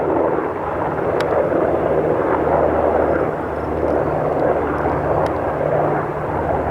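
Two aircraft fly overhead near Grayling, a steady, loud engine drone that fills the whole stretch outdoors with no one talking.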